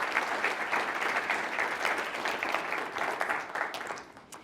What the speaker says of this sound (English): So just a round of applause and a welcome to everybody.